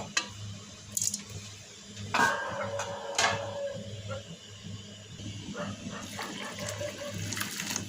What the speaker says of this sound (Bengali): ফুটন্ত পানি দিয়ে দিলাম এখন তাড়াতাড়ি রান্না হয়ে যাবে